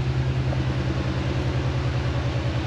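A 2003 Cadillac 4.6 litre V8 idles on its original exhaust, a steady low burbling rumble with an even pulsing rhythm, close and continuous throughout with no talk.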